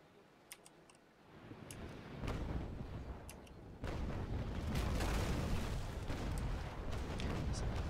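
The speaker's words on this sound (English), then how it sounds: "So there you see the rolling broadside." Rolling broadside of ship cannons firing in the naval battle game Naval Action: a rising run of heavy booms that swells into a loud, continuous rumble, close and sustained, with faint talk underneath.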